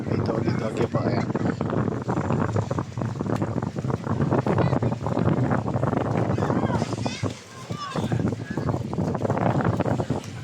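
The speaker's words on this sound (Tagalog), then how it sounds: "talagang malakas po ang hangin dito" Strong wind buffets the microphone steadily at a bayside walkway in Calamba, with gusty roaring rising and falling throughout.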